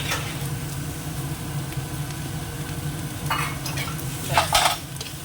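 Ginger and garlic paste fries in a pan while being stirred, a steady low sizzle running throughout with a few brighter scraping bursts from the spoon toward the end; no voices.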